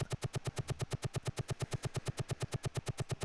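A combat helicopter's cannon fires in the 1991 sim Gunship 2000, a steady rapid string of evenly spaced, punchy shots, about eight per second, sustained without pause and free of voices.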